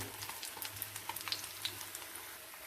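Beaten eggs for an omelette fry quietly in a pan, a soft steady sizzle broken by small scattered pops and crackles, with no talking.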